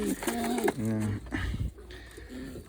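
Young pigeons in a loft give several low, throaty coos in close succession, near and fairly loud.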